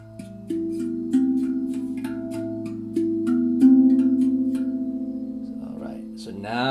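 A Raff Vass handpan played from about two feet away: a sequence of warm, ringing metallic notes struck one after another, each sustaining and slowly fading into the next, ending with a brief scuffle of noise.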